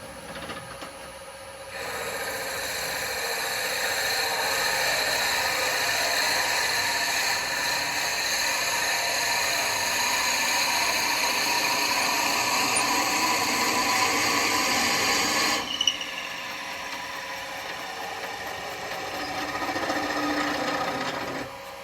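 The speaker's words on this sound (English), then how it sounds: "Right, let's drill this and then see what we get." A spalted wood vase being drilled on a wood lathe gives a steady, close grinding whir that runs unbroken for about fourteen seconds, then drops to a quieter running hum.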